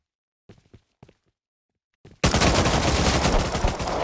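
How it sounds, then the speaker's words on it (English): Sustained automatic gunfire in a video game erupts loudly after a few soft thuds and footsteps, continuing as a dense rapid burst to the end. "He's shooting."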